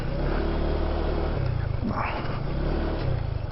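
A motorcycle rolls slowly along a road near Camias View Deck on Mt. Barundon in Porac, Pampanga, its engine giving a steady, close, low hum that barely changes in pitch throughout.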